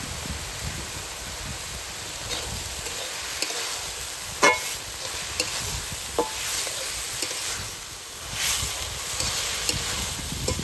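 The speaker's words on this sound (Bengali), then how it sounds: "এবার মোচা আর আলু আবার ভালো করে ভেজে নেব।" Banana flower and potatoes frying in a pan, a dense continuous sizzle with occasional sharp clicks and scrapes of a spatula stirring, close and fairly loud throughout.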